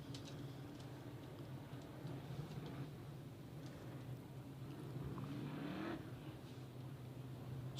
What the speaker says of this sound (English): hot lap session for the 900 horsepower Outlaw Monster Modifieds